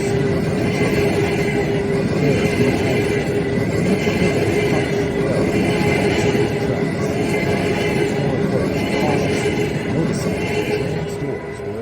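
A heavy, steady train rumble with a faint high whine continues unbroken, loud and close, as the train pulls into a station.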